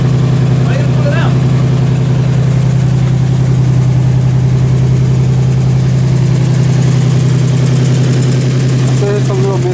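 A Nissan Z car engine idles up close with a slight misfire, giving a loud, steady low hum with uneven pulsing through it. People talk over the engine at the start and near the end.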